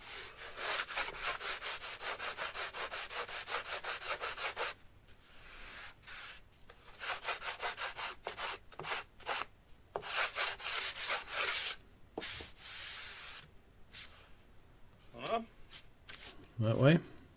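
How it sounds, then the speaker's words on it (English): Coarse 80 grit sandpaper rubs quickly across balsa wood in rapid, even back-and-forth strokes, close and crisp, then continues in shorter scattered bursts while someone talks. "This is 80 grit sandpaper, and it eats away at the balsa very quickly."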